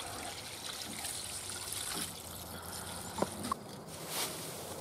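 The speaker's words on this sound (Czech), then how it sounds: "tak to poleju rozpuštěnými slepičinci ve vodě" Water with dissolved chicken manure trickles as it is poured onto a compost heap, a soft, steady splashing with a couple of brief knocks partway through.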